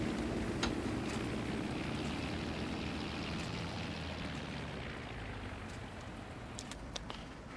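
A boat engine in a survival game runs as a soft, steady low rumble under a broad wash of water and wind noise, faint and continuous, with a few light clicks near the end.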